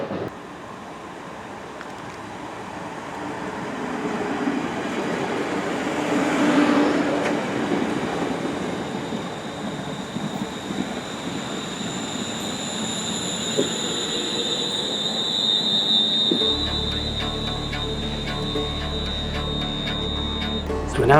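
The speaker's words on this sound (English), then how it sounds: "So we're now just leaving Rugeley Town railway station" A West Midlands Railway train pulls out of Rugeley Town station, a rising rumble of wheels on rails with a long high squeal heard from inside the carriage, steady and fairly loud.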